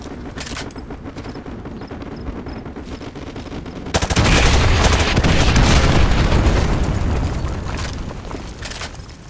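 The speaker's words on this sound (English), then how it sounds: "Fire mission received. Artillery inbound." Artillery strike explosions in the Call of Duty: Modern Warfare 2 campaign: after a few seconds of rattling gunfire, a heavy, loud barrage of booming blasts erupts and rumbles on continuously.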